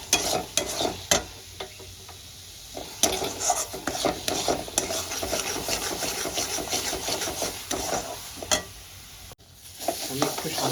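A spatula scrapes and stirs a basic spice masala frying in oil for a bottle gourd kofta curry. Repeated quick scraping strokes sound close over a continuous sizzle.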